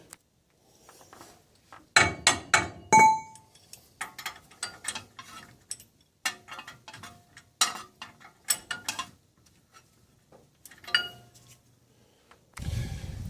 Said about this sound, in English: Try and get that positioned so I can tighten that nut up.